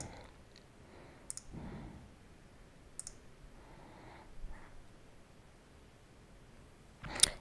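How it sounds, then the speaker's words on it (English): Computer mouse clicks while choosing options on a career research website: a few sparse, faint clicks spaced seconds apart over a quiet room, ending with a sharper click. "You'll click the Start button, and then you have to click on which things you're interested in most."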